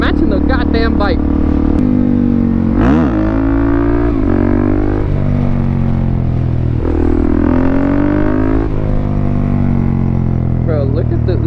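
Suzuki DRZ400 supermoto motorcycle coasting along the road, with a steady engine drone and wind rush running the whole time under a rider's loud, excited talking.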